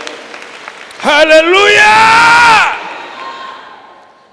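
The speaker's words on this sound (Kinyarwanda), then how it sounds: "Let's put our hands together." A church congregation bursts into loud cheering and clapping, a dense swell lasting about a second and a half before quickly dying away, with a voice shouting over it.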